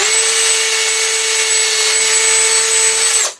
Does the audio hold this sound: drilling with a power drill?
yes